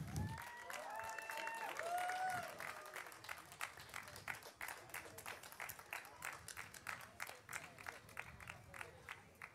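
Crowd applause at a ROK Cup Euro 2023 kart race prize ceremony at Prokart Raceland Wackersdorf, with a dense, steady burst of clapping from a gathered audience that thins into scattered claps, while a voice is heard briefly near the start.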